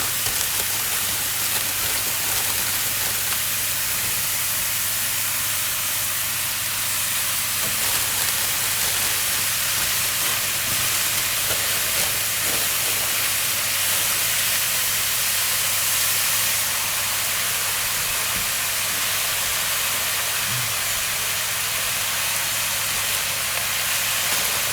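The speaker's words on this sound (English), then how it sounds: "we're just going to fry off the mushrooms until they're more or less cooked" Mushrooms and spinach fry in a pan for a plant-based gluten-free lasagne, giving a steady close sizzle and hiss under a low kitchen hum, with no talk.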